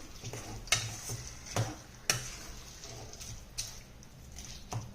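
Mango chutney cooking in oil in a pan, a soft steady sizzle broken by a few distinct stirring clinks and scrapes spaced roughly a second apart.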